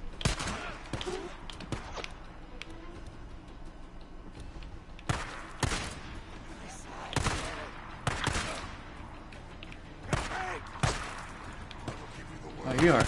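Gunfire from the video game Days Gone, heard as scattered sharp bursts spread across the scene at irregular intervals, some loud and close and others quieter, over a steady game background with someone talking now and then.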